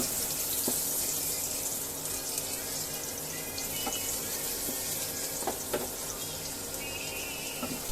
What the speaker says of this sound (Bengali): রসুনটাকে আমি একটু ভেজে নেব।